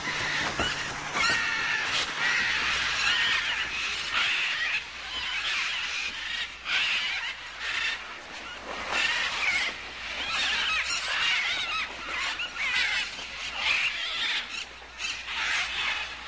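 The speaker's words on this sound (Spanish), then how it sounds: "grandes bandadas de guacamayos y loros vienen a buscar comida" Large flocks of macaws and parrots gather at a clay bank in the Peruvian rainforest, a constant chorus of harsh squawks and shrill screeches from many birds at once, loud and overlapping throughout.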